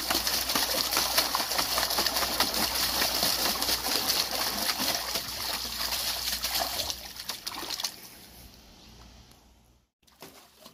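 A Labrador dog digs and splashes in water, making continuous close, choppy sloshing and splattering that thins out and fades near the end.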